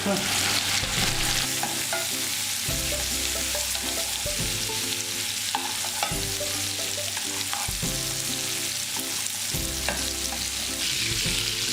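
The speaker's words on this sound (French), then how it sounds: "Donc ici on va le rôtir tout vite." Beef for tagliata sears fast in a hot pan with butter, giving a loud, continuous sizzle broken by regular stirring and shuffling sounds, with no voices.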